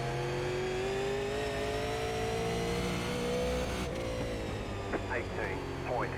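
Super Late Model race car engines drone and rev in iRacing at New Smyrna Speedway, a steady loud whine shifting pitch through the lap, with a voice talking over it.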